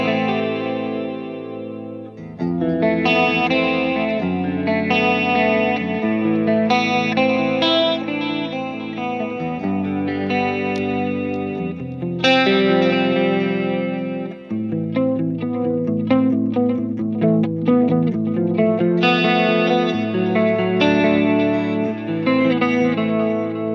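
Electric guitar played clean through a chorus effect, sustained shimmering chords and arpeggios ringing continuously with reverb, loud and alone.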